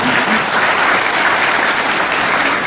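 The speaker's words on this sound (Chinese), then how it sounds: "给他们掌声，谢谢他们的辛劳" Steady, loud applause from an overseas Taiwanese business community audience at a world convention closing ceremony, dense clapping filling the space without pause.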